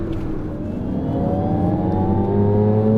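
A synthetic whirring drone from an Alpine A290 electric car rises steadily in pitch, layered tones climbing smoothly as it accelerates, close and fairly loud.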